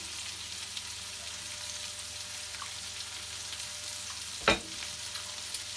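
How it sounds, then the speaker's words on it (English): Garlic sizzles steadily in melted butter for garlic king prawns, a constant fine frying hiss with one brief louder scrape or clatter of a spoon partway through. "Make sure that garlic's all sort of in there cooking."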